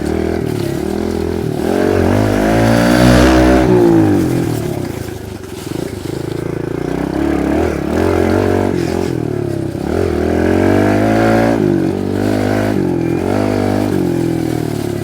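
A Kawasaki KLX 110R dirt bike of about 7 horsepower revs on a trail, its small engine loud and close, rising and falling in repeated throttle sweeps with a short dip midway.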